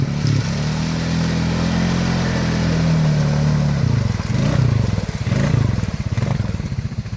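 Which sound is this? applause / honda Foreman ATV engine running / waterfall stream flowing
honda Foreman ATV engine running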